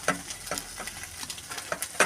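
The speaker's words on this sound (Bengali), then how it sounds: "পেঁয়াজ, কাঁচা লঙ্কা, ডিম এটা ভেজে নিলাম" Onion, green chilli and egg fry in a pan with a steady low sizzle, punctuated by rhythmic scraping stirs of a spatula several times a second.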